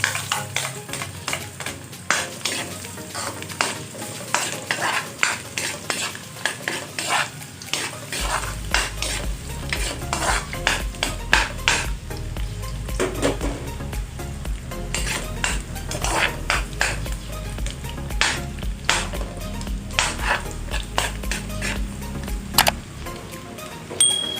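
Garlic and onion sizzle and crackle in a hot pan while a spatula stirs and scrapes with frequent metallic clinks, a steady close frying sound that grows fuller after the first few seconds.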